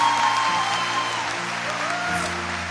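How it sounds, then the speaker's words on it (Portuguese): A crowd at a Catholic retreat applauds hard and steadily in praise, a dense, even wall of clapping that holds throughout. "Então vamos aplaudir o Senhor com muita força"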